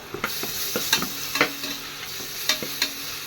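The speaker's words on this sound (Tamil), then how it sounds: "நல்லா நல்லா ஃப்ரை ஆகுதுல்ல" Onions and ginger garlic paste frying in a pan for chicken biryani, with a constant sizzle and a series of sharp scrapes and clacks of a spoon stirring against the pan.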